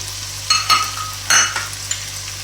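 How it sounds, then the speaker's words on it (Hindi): Shimla gosht frying in a pan with tomatoes and seasoning, a steady close sizzle broken by several scraping stirs of a spoon against the pan, with no talking. "अब हम इसकी अच्छे से भुनाई करेंगे और साथ ही साथ हम इसमें ये टमाटर शामिल कर देंगे"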